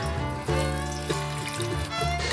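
Cold water runs steadily from a tap to soak sliced eggplant, a close, continuous flow with a shifting pitch like a vessel filling.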